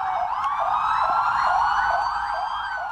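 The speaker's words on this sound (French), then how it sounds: "Dans un vacarme de sirènes" A loud, continuous emergency-vehicle siren wails with a rising and falling tone, close and dominant, with no voices over it.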